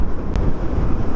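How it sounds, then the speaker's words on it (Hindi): Strong wind blasts across the microphone in a Himalayan valley in Kinnaur, Himachal Pradesh, a loud, continuous rumbling roar with gusty swells and no voices. "ये हवा पूरी ख़राब कर दे रही है। बहुत तेज़ हवा है।"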